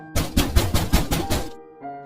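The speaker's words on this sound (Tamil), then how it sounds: "இப்ப மறுபடியும் கதவை தட்டினாங்க" Rapid, forceful pounding on a door, about six thuds in quick succession, loud and resonant, followed by a quiet low drone.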